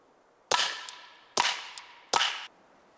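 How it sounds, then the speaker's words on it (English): Three sharp suppressed .22 pistol shots from a Ruger Mark IV firing CCI standard velocity long rifle rounds at a ballistic plate five yards away, evenly spaced, each with a short ringing tail and no talking. "we're shooting a Ruger Mark IV suppressed"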